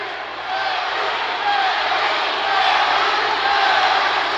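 Loud, continuous crowd roar and shouting fills a kickboxing title-defence bout between Jhonasky Sojo and Jefry Roy in the closing seconds, swelling steadily without a break.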